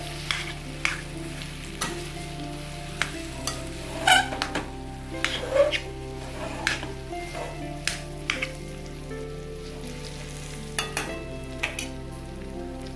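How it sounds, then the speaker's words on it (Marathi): Dates being stir-fried in ghee for sugar-free date and seed laddoos: a soft, low sizzle under quiet scraping and clinking as a spoon turns them, with a steady hum behind and no talking. "छान असे खजूर आहे ते पण त्याच्यात छान तुपात आपण परतून घेऊया."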